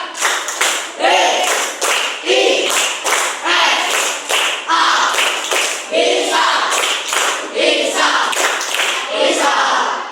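Children clap in a rhythmic classroom chant, in quick repeated bursts of group clapping at a steady beat, with young voices chanting along.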